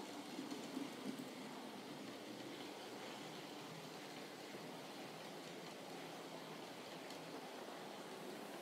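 A model train runs steadily along its track, a continuous rolling rumble with a faint rhythmic clatter, fairly quiet and alone with no voices.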